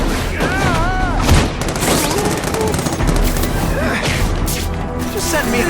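Rapid armor-piercing gunfire in The Amazing Spider-Man 2 video game, a dense fusillade of loud shots and impacts running throughout, with game voices and effects mixed underneath.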